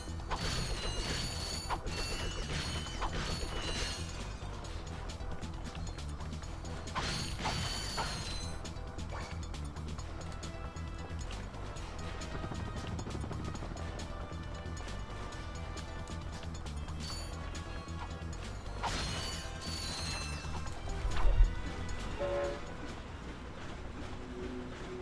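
Crates smash and bolts are collected in the Ratchet & Clank video game, heard as a faint, busy run of rapid metallic clicks and clatter over a constant mechanical game backdrop, with a sharper burst near the end.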